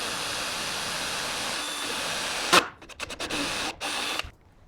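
A drill bores a hole with a loud, steady whir, then cuts out and gives several short, choppy bursts and pauses before going quiet.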